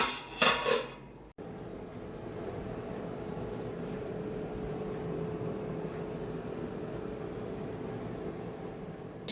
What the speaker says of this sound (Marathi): त्याच्यावर झाकण ठेवते